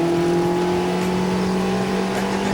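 A car driven hard through corners on a race track, its engine droning steadily and loudly from inside the cabin with a constant tonal hum and no pauses.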